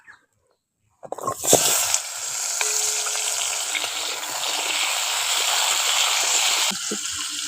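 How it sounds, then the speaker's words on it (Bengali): Potatoes dropped into hot mustard oil in a pan burst into a loud, close, steady sizzle that starts abruptly with a splash and crackle, then holds a dense hiss without talk. "এবার গরম তেলের মধ্যে আলুটা দিয়ে দিচ্ছি।"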